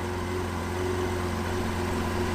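A cold 2019 Lamborghini Aventador SVJ engine runs with a steady, droning hum that holds a fairly constant pitch with no sharp rev spikes, heard up close and alone.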